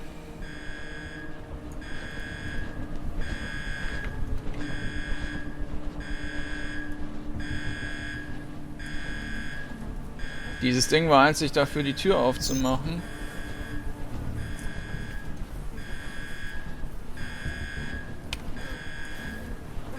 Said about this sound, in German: Ich sehe aber auch nichts, was ich drücken könnte, um den Alarm zu beenden.